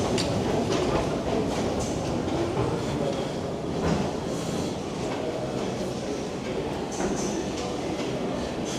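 New York City subway train rumbling and clattering loudly at a platform, a dense steady roar of wheels and cars with faint squeals and muffled voices underneath.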